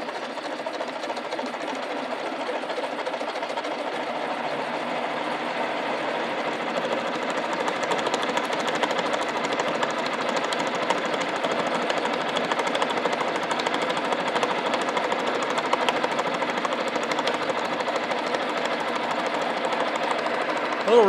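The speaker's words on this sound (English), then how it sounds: "A little rough, but it's drilling." Drill bit boring a through hole in metal stock for steam locomotive spring hanger blanks, a steady, rough grinding drone that runs throughout and grows slightly louder partway in.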